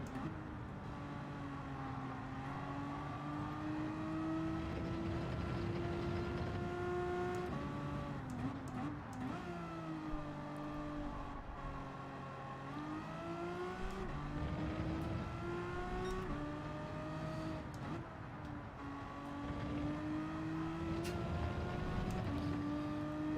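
Race car engine in the Gran Turismo 7 video game, revving high and steady through long straights, dropping sharply on downshifts and climbing again, loud and continuous with no talking.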